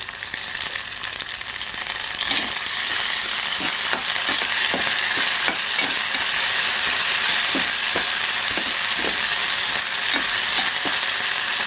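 Green chillies frying hard in an oil-filled pan on high heat for a Telugu broad bean curry, a steady loud sizzle with occasional stirring clicks, no voices.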